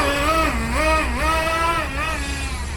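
XTM Accelerator nitro RC stadium truck engine, newly unboxed and still warming up, revving loudly nearby in rising and falling whines, with several throttle blips over a steady buzzing idle.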